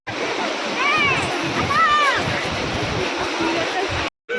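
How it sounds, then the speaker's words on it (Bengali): Water splashes steadily as people bathe in the river at Har Ki Pauri ghat in Haridwar during a Maghi Purnima holy dip, a continuous wash of broadband splashing with a few raised voices rising briefly over it. "চলো এবার স্নান করতে।"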